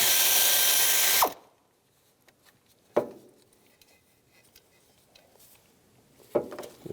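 A power tool with a 10mm socket removes nuts on a 2006-2011 Cadillac DTS. It whirs loudly for about a second, then stops, followed by sparse metallic clicks and clunks of the work close by.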